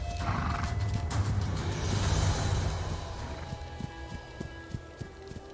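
A Mongol horse gallops with quick clip-clop hoofbeats and lets out a loud neigh early on, then the hooves carry on alone at a moderate distance.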